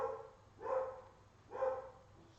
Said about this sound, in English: Tell that dog to shut up.